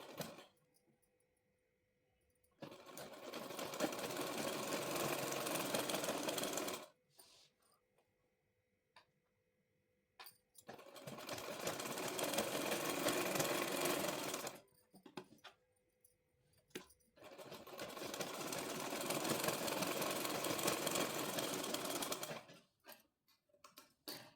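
A sewing machine stitches palazzo pants in three long continuous runs of motor whirring and needle clatter, each several seconds, separated by quiet pauses with small handling clicks.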